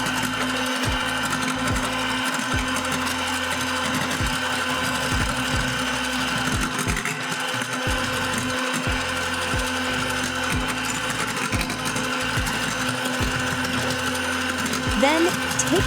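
An electric mixer whirs steadily and close through cake batter after vegetable oil is added, a continuous mechanical drone with a faint rattling texture running throughout.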